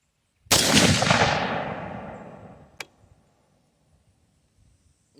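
One loud rifle shot from a 22-250 AR10 cracks sharply, then its boom rolls away over about two seconds, followed by a faint distant click and near quiet.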